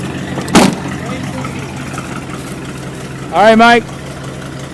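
An old 318 V8 in a truck idles with a steady low rumble, while someone speaks briefly nearby over the running engine.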